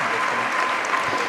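Sustained audience applause for Dr. José Luis Marín after a talk on depression, a dense steady wash of many hands clapping at close range, unbroken through the whole moment.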